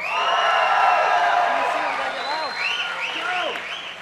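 A crowd at MLG Dallas 2008 Championship Sunday, a Losers Bracket Finals gaming event, cheers and applauds loudly and steadily, with rising whoops and whistle-like yells near the end.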